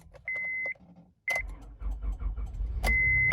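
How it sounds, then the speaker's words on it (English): A car's warning chimes beep twice, then the engine turns over with a low, uneven rumble as it struggles to catch. A final beep sounds as it labours on. "So we're gonna start the car."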